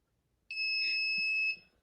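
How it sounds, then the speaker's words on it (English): A pill dispenser alarm sounds one steady, high electronic beep lasting about a second, clear and alone against near silence. "the alarm goes off again, and once they click the button, it's dispensed"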